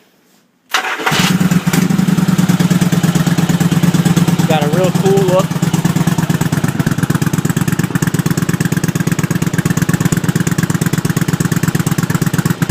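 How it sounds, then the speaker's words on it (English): A Honda 750 Virgo motorcycle fitted with a Cobra exhaust cranks, fires and settles into a loud, raspy, steady idle. Someone speaks briefly over the running engine. "if you want to have this thing sound like a Harley, because it's very raspy with this new exhaust"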